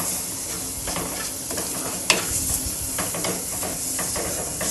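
Fish curry stirred in a pan on the stove: a continuous sizzling hiss with soft scraping strokes of a spoon and one sharp clack against the pan, close and alone.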